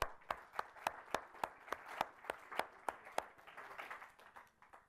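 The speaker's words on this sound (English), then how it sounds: "So once again, round of applause." Audience at an inaugural congress general assembly giving a round of applause: dense overlapping hand claps with sharp regular accents, steady then thinning toward the end, moderately distant in a hall.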